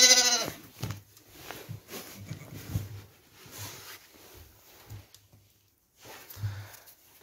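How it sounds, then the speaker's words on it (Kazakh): A newborn goat kid gives a sharp, high bleat at the start, and then adult goats shuffle and step in a pen with scattered low, soft sounds and quiet gaps. "міне өзі сияқты кішкентай лақ туды."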